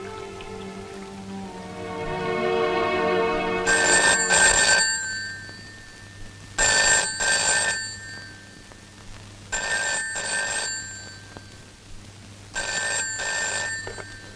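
Telephone ringing in a movie scene, four bursts of shrill ringing separated by pauses, loud and close over a quiet low background hum, with no speech.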